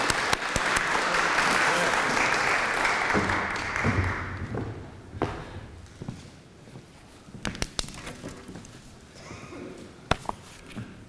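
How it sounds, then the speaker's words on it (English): Audience applause for a guest speaker at a bank history lunch talk, a dense burst of clapping that fades after about four seconds into scattered claps and room noise. "So let's give him a round of applause."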